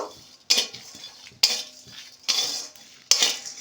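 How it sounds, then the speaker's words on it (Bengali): Ingredients are lightly fried in a pan for a Bengali winter snack. A utensil scrapes and stirs in four sharp, close strokes, with faint sizzling between them. "এগুলো একটু ভেজে নেব খুব বেশি ভাজবো না"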